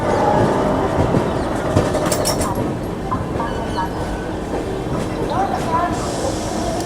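At Guntur Junction the Sabari Express carries on as a continuous rumble and hiss of rail noise, with occasional clanks and brief squeals, while voices murmur in the background.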